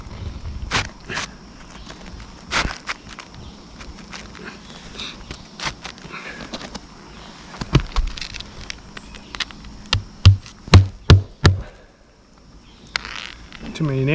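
A hammer drives nails into roof shingles on a wooden firewood shed: scattered sharp knocks at first, then a fast run of loud, close strikes before a brief lull.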